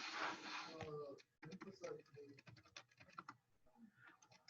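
Someone types a Google search on a computer keyboard, giving quick irregular clicks and taps nearby, while a voice is heard speaking at the start of the clip.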